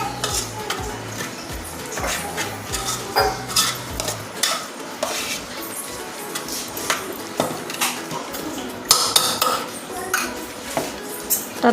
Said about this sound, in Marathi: हे गूळ टाकून आता मी पुरण भाजून घेते.